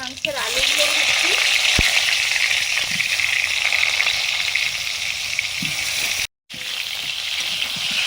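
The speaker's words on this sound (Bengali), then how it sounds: "আলুগুলো ভাজা হয়ে গেছে" Potatoes fry in hot oil for a duck meat curry, a loud steady sizzle close by, broken by a few stirring clicks and a brief drop near the end.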